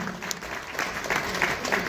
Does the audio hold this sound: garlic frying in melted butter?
no